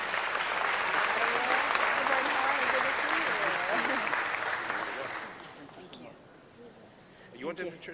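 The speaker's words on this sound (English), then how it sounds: "Let's give a great round of applause for Animal Services." Applause for the Animal Services department at a city council meeting, a moderately loud burst of clapping from a room of people that fades after about five seconds into quieter room noise and brief voices.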